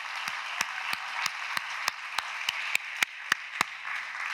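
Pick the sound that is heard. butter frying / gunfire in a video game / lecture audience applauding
lecture audience applauding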